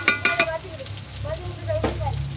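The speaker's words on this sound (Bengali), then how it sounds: "পেঁয়াজটা দিয়ে নেড়ে নেবো, নাড়া হচ্ছে, পেঁয়াজটা ভাজা হোক।" Onions frying in a pan while being stirred, a steady sizzle broken by a few sharp utensil scrapes and clinks near the start and again later, with faint tonal sounds over it.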